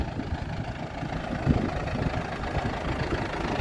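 A Lovol P4110 tractor engine idles close by with a steady, low rumbling knock while it drives onto a weighbridge, continuous and without talk.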